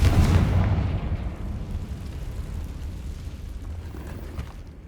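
A Confringo spell explodes in the video game Hogwarts Legacy inside catacombs: a loud, booming blast that opens the clip and rolls into a long, rumbling decay fading over several seconds.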